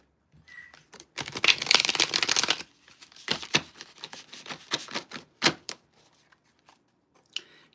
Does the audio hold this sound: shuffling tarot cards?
yes